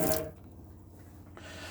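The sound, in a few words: water running as camper van water system fills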